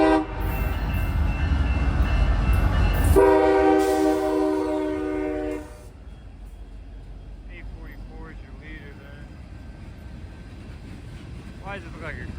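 A freight train passes with a loud rumble and a long, blaring horn blast, then fades to a quieter clatter of rolling wagons.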